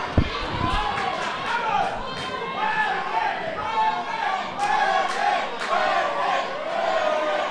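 A lucha libre hardcore wrestling crowd in a Mexican arena, loud sustained jeering and shouting that swells in waves, with a sharp thump near the start and an announcer talking over the noise.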